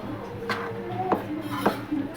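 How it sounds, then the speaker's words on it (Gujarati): A spoon mixes samosa filling spices in a bowl, with three soft, evenly spaced taps and scrapes against the bowl, close and fairly quiet. "અત્યારે આપણે બધો મસાલો મિક્સ કરીએ છીએ."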